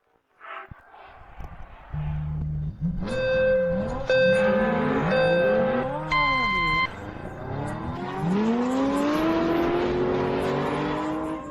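Race cars launch from the start of a Grand Prix qualifying race, engines rising from a low idle into loud, climbing revs with whining pitch sweeps, while a voice talks over them.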